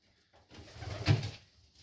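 Junior highflyer pigeons in a loft give one soft, low coo that rises and fades over about a second, close and fairly quiet, with faint rustling before and after.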